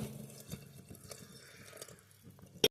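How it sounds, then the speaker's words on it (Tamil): Water pours and splashes into a cooking pot of brinjal at a low, steady level, ending with a sharp clink before falling silent. "தேவையான அளவு தண்ணி ஊற்றிக்கலாம்."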